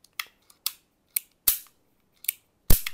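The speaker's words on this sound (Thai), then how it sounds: "เนี่ยอาการของปืนที่แก๊สหมดจะเป็นอย่างนี้นะครับ" An R501 gas airsoft pistol fires as its gas runs out, giving six sharp snapping pops at uneven intervals, the last one loudest and followed by a brief hiss, with no talking.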